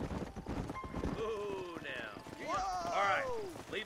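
Horses' hooves clip-clop in Red Dead Redemption, a quick uneven patter under game dialogue, followed by a loud horse whinny near the end.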